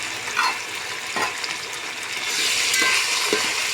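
Cauliflower, peas, green beans and potato tipped into a hot pan for masale bhat, bringing loud close sizzling and stirring scrapes that swell and stay dense toward the end.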